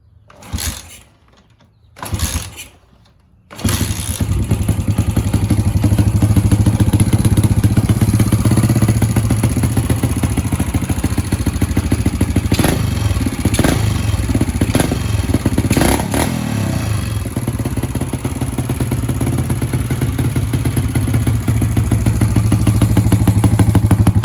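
A few short kicks and sputters, then an old pit bike engine, long stored in a barn, catches and runs continuously, loud and close, with a couple of brief revs midway.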